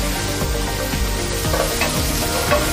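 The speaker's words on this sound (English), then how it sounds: "I want to cook this meat here and allow it to brown." Beef browning in a pot, sizzling steadily with spices while being stirred, producing a continuous close frying hiss with occasional scraping stir strokes and no talk.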